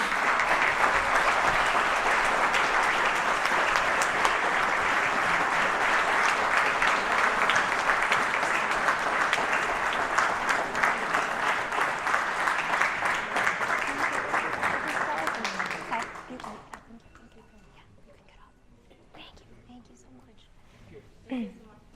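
A crowd at a councilwoman's district address applauds steadily and loudly for about sixteen seconds, then the clapping dies away into near quiet with a few faint scattered sounds.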